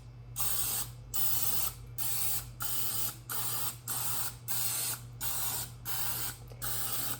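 A can of cooking spray hisses onto a baking pan in about ten short, even bursts with brief pauses between them, close by and with nobody talking.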